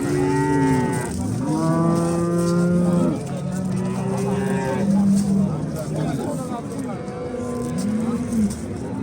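Dairy cows moo loudly and close, several long drawn-out calls one after another, with voices in the background.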